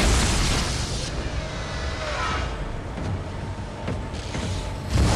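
Explosives detonate in the Dead Space video game, a heavy rumbling blast with a roaring noise wash that decays and swells again, ending in a fresh low boom.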